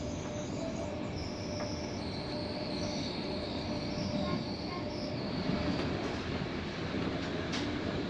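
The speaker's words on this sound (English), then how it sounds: "This electric locomotive accelerates much more smoother than the diesel locomotive haul trains in Australia." A TCDD electric locomotive hauls a night sleeper train from Ankara to Izmir in Turkey. It gives a steady, close rolling rumble with faint high wheel squeals and occasional light clicks, and there is no talk.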